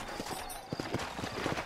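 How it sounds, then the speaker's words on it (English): Horse hooves clip-clop steadily in a Wild West video game set in New Austin, a quick run of close, even thuds with no voices over them. "You ain't gonna find sturdier horses than these in all of New Austin."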